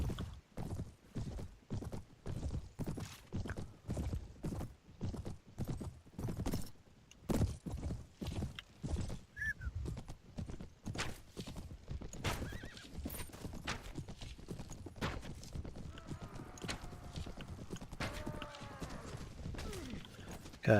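Horses in a medieval battle in the game Prophesy of Pendor, with rapid, steady hoofbeats galloping close by throughout and a couple of neighs and whinnies cutting through later on, without any talk.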